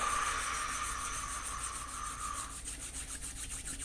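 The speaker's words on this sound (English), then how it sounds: "You're going to rub your hands together." Palms rubbing together in a steady, close swishing friction that fades slightly partway through, with no talking.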